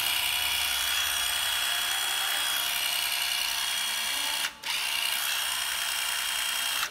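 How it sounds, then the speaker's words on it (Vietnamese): A Hitachi 12V cordless drill whines at a steady high pitch close by, running continuously with one brief stop and restart midway before cutting off at the end. "Con vít Hitachi 12V thăng rời thăng ngoài."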